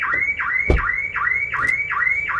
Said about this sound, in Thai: นี่สัญญาณการขโมยดังนะครับ